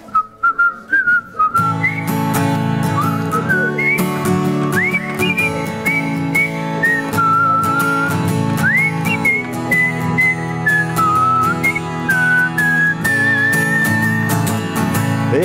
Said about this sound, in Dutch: Wat fluiten.